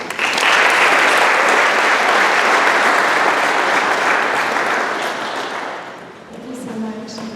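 Loud, sustained audience applause fills a ceremony hall as a speaker is welcomed at a dietetic internship white coat ceremony, steady for several seconds before tapering off.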